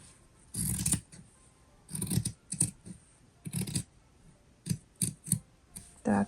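Scissors cutting fabric for a phone pouch, a series of crisp close snips in irregular bursts, some longer slicing strokes and short quick clips, with quiet pauses between and no talking.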